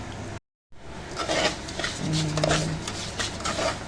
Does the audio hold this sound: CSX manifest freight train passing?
no